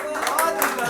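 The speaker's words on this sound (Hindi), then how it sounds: "तालियां" Applause from an audience at a poetry show: brief scattered clapping that is mixed under a speaking voice.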